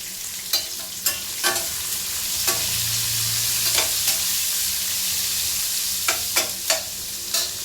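Chopped onions with a pinch of salt sizzle steadily in a hot pan, a continuous frying hiss broken by several sharp scraping stirs of a spatula, close and fairly loud, with no voices.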